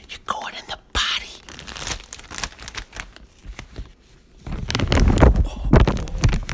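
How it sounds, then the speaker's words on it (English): Plastic crinkles and rustles in irregular bursts close to the mic, with quiet whispery sounds in between and a louder stretch of crackling near the end. "Is that the crinkle of a plastic bag that I hear?"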